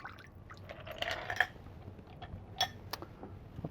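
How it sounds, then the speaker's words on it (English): A Black Manhattan cocktail is poured into a glass: a soft, brief liquid pour with light clinks of glass and utensils, close but quiet. "We'll pour this for the boomer."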